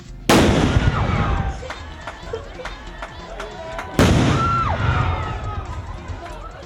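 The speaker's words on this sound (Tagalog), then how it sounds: "Michael Calma ang pagpapasabog ng 105mm US-made na kanyon." Two loud, booming blasts from a US-made 105mm artillery cannon go off about four seconds apart, each followed by a long rumbling tail.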